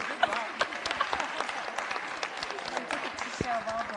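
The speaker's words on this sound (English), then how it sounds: "you can also give yourselves a round of applause" An audience at a panel talk claps in a fairly quiet, scattered round of applause that carries on throughout, with a voice speaking over it.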